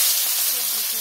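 Cumin seeds dropped into hot cooking oil, giving a bright, continuous hiss of sizzling that stays fairly loud and even across a second, heard up close.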